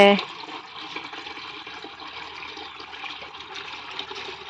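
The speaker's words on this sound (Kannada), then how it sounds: "ಪಂಪು ಚಾಲದು ನೀರು ಬರ ಶುರುವಾಂಡಿತ್ತೆ" Steady hiss and rush of water pouring continuously from a pump, close and even throughout, with no talking.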